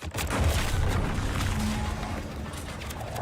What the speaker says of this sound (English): Was that an explosion?